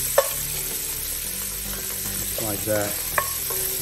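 Bacon frying in a pan while pieces are stirred and turned with a spoon, giving a steady sizzle with a couple of scraping knocks, close by, and a voice speaking briefly.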